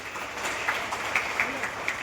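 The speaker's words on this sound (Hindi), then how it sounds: "मैं चाहूंगा कि एक बार उनके लिए तालियां जरूर बजाइए।" A crowd claps for primary school children's performance at a government event, a continuous blur of applause with a few sharper individual claps and some faint voices underneath.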